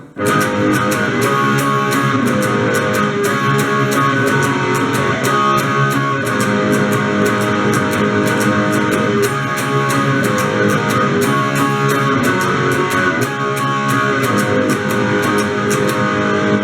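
A rhythm part strummed on electric guitar with a steady picking pattern, loud and continuous throughout with no talking.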